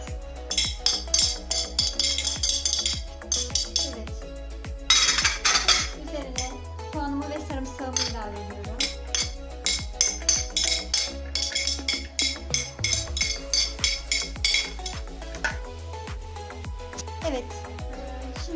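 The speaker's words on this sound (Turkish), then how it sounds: "Öncelikle hepsini geniş bir kaba alıyoruz. Güzelce karıştırıyoruz." Chicken casserole ingredients being stirred in a large bowl, giving rapid repeated clinks and scrapes of a utensil against the dish at close range, without speech.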